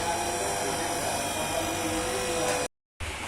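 Electric paper drilling machine, a Novatek Enrico LNK, running with a steady high whine and motor hum, loud and close, cutting off abruptly before resuming.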